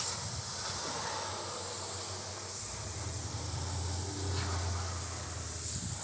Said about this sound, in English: Now we're going to rinse our wheel and tire and fender well here.